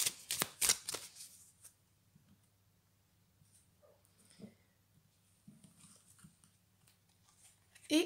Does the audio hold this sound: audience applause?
no